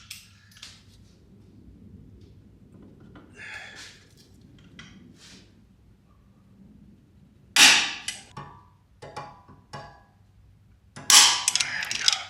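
Torque wrench tightening a rear control arm bolt on a 2018 Ford Explorer, giving several sharp close clicks and metallic snaps, clustered in two bursts near the end after quieter handling noises.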